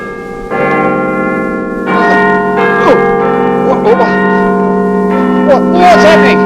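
A doorbell cut off from its chimes and rigged to a tape recorder rings out in several bright, resonant bell strikes over a sustained tonal hum, close and loud.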